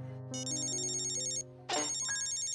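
A cartoon telephone rings in a bright electronic trill, two bursts separated by a brief pause, loud and clear with no talking.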